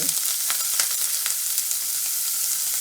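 Chopped onion sizzles steadily in hot oil over medium heat, a dense close-up frying hiss with small crackles and pops throughout and no voices.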